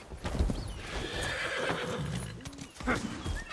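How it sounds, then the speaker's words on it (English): Horse hooves clip-clop and a horse neighs in the open-world video game Where Winds Meet, close and clear over game ambience and music, with a whinny standing out midway. "How do I get off the horse?"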